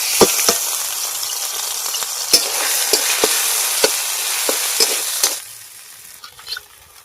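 Ground lentil paste hits hot oil with panch phoron and fries loudly and close, a dense sizzle broken by sharp spoon knocks and scrapes, then it fades to a quieter simmer at the end.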